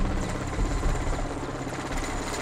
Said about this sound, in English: The helicopter lands by our tents